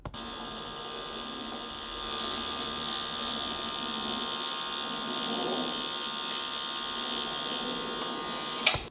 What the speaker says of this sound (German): Maschine klingt ein bisschen so danach, als wäre da nicht genug Saft drauf